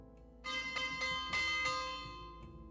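Church-style bell ringing out for lunchtime in the PC mystery game Agatha Christie: Death on the Nile, a few loud resonant strikes with long shimmering decay, alone with no talk.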